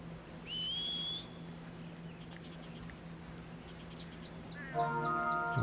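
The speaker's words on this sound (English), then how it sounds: "The horse is out of whistle range" A rising whistle call for a horse in the Red Dead Redemption 2 video game, a clear tone near the start followed by faint repeated chirps and a brighter harmonic sound toward the end, with no talking.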